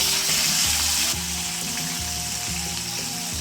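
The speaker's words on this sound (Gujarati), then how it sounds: "હવે કંકોડા, જો હવે હળદર મસાલા નાખી દઈએ." Spiny gourd frying with garlic, turmeric and spices, a loud close hiss of sizzling oil that eases slightly after a second, with faint low stirring knocks beneath and no speech.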